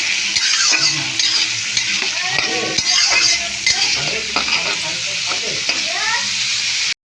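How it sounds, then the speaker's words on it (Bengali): Food sizzles steadily in a frying pan for rice while a utensil stirs and scrapes it, with frequent clear scraping strokes over the continuous hiss; no one speaks. "এবার এটাকে ভালো করে আমি নাড়িয়ে নেবো। একটু এটা ভাজা ভাজা হবে"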